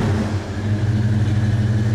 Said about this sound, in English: you have this deep yacht-like burble to this thing